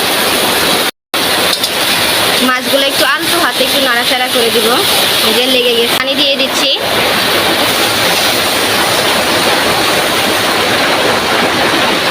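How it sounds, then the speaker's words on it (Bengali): Heavy rain drums loudly and steadily on a tin roof, a dense hiss that runs the whole time. A voice talks over it for a few seconds in the middle. "এই যে বৃষ্টি পড়তেছে আর টিনের উপরে বৃষ্টির শব্দ মেঘ ডাকতেছে"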